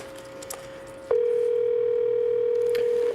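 A telephone call placed on a desk line, with a faint tone that jumps into a loud, steady, continuous dial tone held for about two seconds, close and clear with no talking over it.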